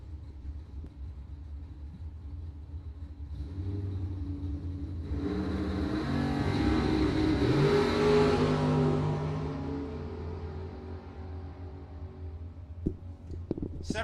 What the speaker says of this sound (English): Doug Cruz out of Rockford, Illinois, in his 91 Camaro